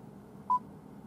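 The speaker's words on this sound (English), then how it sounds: "Please start speaking after the beep." A single short electronic beep from a Vauxhall Ampera electric car's voice-control system sounds once, clear and isolated against faint cabin hum.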